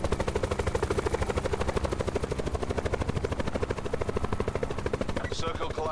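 Helicopter in the video game Call of Duty Blackout, loud rapid rotor chopping in a steady pulse throughout, with a brief sharper burst near the end.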